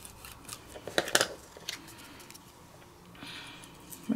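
Scissors trim paper card stock for a handmade A2 size thank-you card, giving a few quick, soft snips clustered together, close and quiet with no talking.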